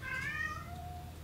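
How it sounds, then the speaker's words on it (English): A cat gives one faint, wavering meow that fades out, heard behind a quiet, steady background hum. "That was my cat, okay?"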